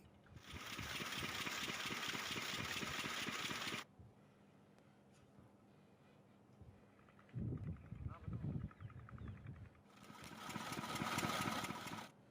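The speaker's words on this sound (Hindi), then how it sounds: "इन्होंने लिस्टर इंजन में गैस सिलेंडर के द्वारा जो है इंजन चला" A Lister engine adapted to run on an LPG gas cylinder for farm irrigation chugs in loud, rapid rhythmic bursts, cutting out for a stretch with brief rumbles before the steady running returns.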